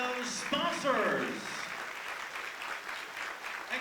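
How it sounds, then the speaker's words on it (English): Guests at the 10th Annual Phenix City Mayor's Ball applaud the event sponsors, clapping steadily from a moderate distance with some whoops and cheering at the start. "How about a big round of applause for all of those sponsors?"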